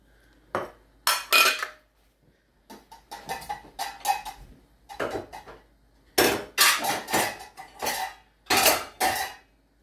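Lo mein noodles with bean sprouts and scallion are tossed in a pan, giving bursts of clattering metal scrapes and clanks in uneven clusters, close and fairly loud against quiet gaps, with no voices.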